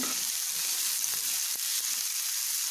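Capsicum sizzles steadily in a hot pan for a vegetable gravy, a continuous soft hiss with a few faint stirring clicks, close and alone without voices.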